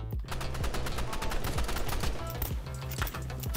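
Rapid handgun fire in the Roblox shooter Rivals, a dense run of sharp, close shots repeating steadily for several seconds with almost no pause and no talk over it.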